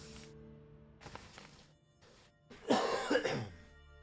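A few throaty coughs, the last one louder and harsher, close to the mic with quiet background hiss between them.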